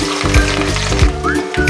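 Onions fry in hot oil until brown for a chana dal khichuri, giving a loud, close, continuous sizzle with bubbling crackle and brief stirring scrapes.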